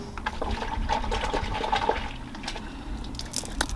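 A tyre brush is swished and rinsed in a water bucket nearby, with continuous sloshing and churning water, splashy bursts and trickles throughout at moderate loudness.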